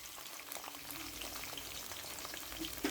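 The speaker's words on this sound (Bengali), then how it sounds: "পেঁয়াজ ভাজা হয়ে গেছে, আমি 4 মিনিটের মতো ভেজে নিয়েছি।" Half a cup of chopped onions fry in oil for Puran Dhaka style beef tehari, giving a steady close crackling sizzle with small pops throughout.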